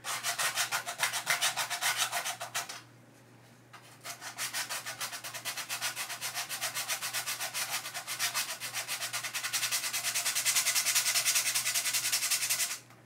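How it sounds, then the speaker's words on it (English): Sanding a painted custom collectable figure: steady, close scratchy rubbing strokes in a fast back-and-forth rhythm, pausing once briefly and then continuing, with no talk. "I'm just sanding."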